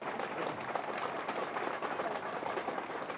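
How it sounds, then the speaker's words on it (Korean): A crowd at a local political gathering applauds steadily, a dense wash of clapping filling the whole stretch at moderate distance. "박수 한번 보내주세요."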